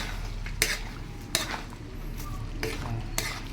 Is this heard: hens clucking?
no